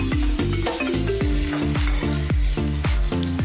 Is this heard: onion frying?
yes